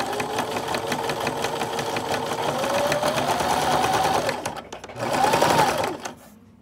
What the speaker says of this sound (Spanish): Lo pegamos y comenzamos a coser.